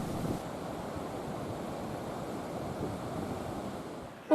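High sea waves in Merauke waters, Papua, roar as a steady, continuous surf wash mixed with wind buffeting the microphone, with no voices, ending in a brief louder rustle.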